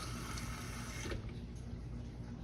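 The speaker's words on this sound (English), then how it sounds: "I'm gonna put a little water in the bottom of this pan just to create a steam" Water pours into the bottom of a pan holding pork spare ribs for oven barbecue, a steady close splashing stream that stops abruptly after about a second, leaving quieter trickling.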